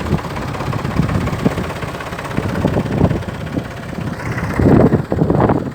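Tractor-driven subsurface fertilizer machine for vineyards, powered by the tractor's PTO shaft, running with a steady broadband mechanical rumble and churning noise, plus louder bursts toward the end.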